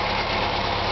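A 1600cc VW engine in a sandrail idles through a cheap muffler, giving a steady, close, rumbling drone with an even low throb.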